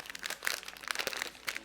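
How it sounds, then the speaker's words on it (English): Close, crisp crunching and crinkling bursts, like teeth breaking into brittle candy, several quick irregular crunches at a quiet level. "Did you guys hear that crunch?"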